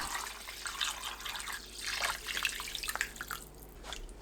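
Water splashes and trickles steadily into a pot holding chicken and radish, a continuous close pouring with light dripping accents and no voices.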